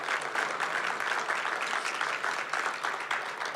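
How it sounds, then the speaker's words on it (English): A festival audience claps steadily throughout, a dense, even wash of applause with no voices standing out. "I think we deserve another round of applause."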